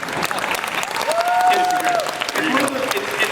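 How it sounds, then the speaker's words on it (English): Audience applause at a Haunted Mansion 40th anniversary event, a steady, fairly loud wash of many hands clapping that fills the whole stretch, with a sustained tone and a few voices faintly mixed into the crowd noise. "If that was not a prompt for applause,"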